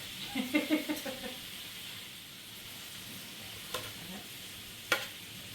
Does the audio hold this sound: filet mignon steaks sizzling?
yes